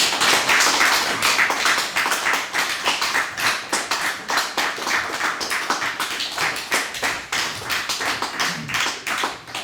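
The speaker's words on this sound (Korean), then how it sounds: "여러분 크게 박수 쳐주시면 감사하겠습니다" A church congregation claps steadily for two newly baptized members, a sustained round of applause from many hands filling the room and tapering slightly toward the end.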